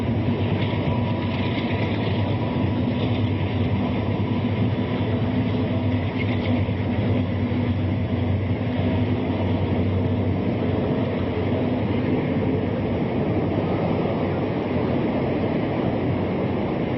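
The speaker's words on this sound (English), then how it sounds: "Train coming here" A train rumbles past a bus museum yard in La Puente with a continuous, loud roar that stays steady for the whole stretch, with no voices.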